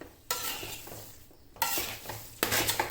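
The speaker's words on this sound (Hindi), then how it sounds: "तो इस तरह से खुरचते जाएं कढ़ाई से" Spatula scraping and stirring fenugreek seeds as they roast in a brass kadhai, in three bursts of gritty scraping, close and fairly loud, with quieter pauses between.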